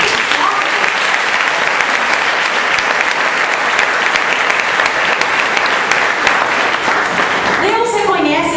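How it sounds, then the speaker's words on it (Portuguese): A church congregation gives sustained, loud applause to the Lord during a Portuguese-language sermon on obedience, steady dense clapping filling the room for several seconds before fading as a voice returns. "Dê um aplauso ao Senhor."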